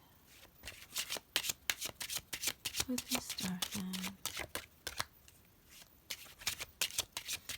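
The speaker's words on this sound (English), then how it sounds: "can you feel free to fast forward through the shuffling if you like?" Tarot cards are shuffled over and over in quick riffling bursts, with a person talking briefly partway through.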